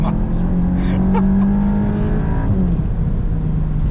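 A Volkswagen Golf GTI Clubsport, with its gearbox switched to S mode, accelerates hard, its steady engine drone rising in pitch and then shifting near the end of the run, heard from inside the cabin.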